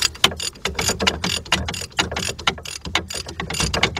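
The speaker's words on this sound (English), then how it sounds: "take my ratchet off. And I'm taking this bolt out of here." A ratchet spins out a bolt from the front right wheel bearing hub of a 2008 Audi A6 Quattro 3.2, with rapid close, loud clicking bursts repeating in quick strokes throughout.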